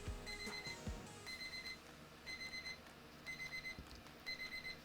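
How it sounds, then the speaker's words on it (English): Electronic timer alarm going off during resin crafting, repeated groups of rapid high beeps about once a second, moderately faint, with a few low knocks in between and no voices. "That was the timer for my resin."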